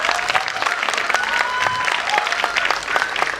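Steady applause from an Onam Thiruvathirakali festival audience, dense and continuous clapping throughout with some crowd murmur mixed in.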